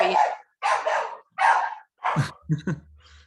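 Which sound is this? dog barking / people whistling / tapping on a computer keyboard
dog barking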